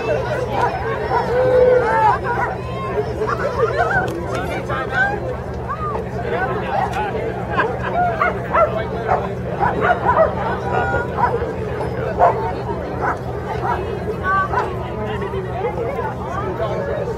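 Several dachshunds bark and yip excitedly nearby at the start gates of a wiener dog race, some whimpering, amid the chatter and hubbub of a crowd.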